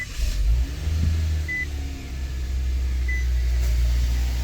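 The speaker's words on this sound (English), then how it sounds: "So the car is running" A Nissan Kicks engine idles after a jump start from a Lokithor battery pack, with a steady low rumble and hum close by and a brief whine near the start, and no voices.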